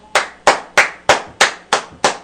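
One person claps hands in an even, deliberate rhythm during a gospel radio broadcast: seven sharp, close claps, evenly spaced about a third of a second apart, with nothing else heard.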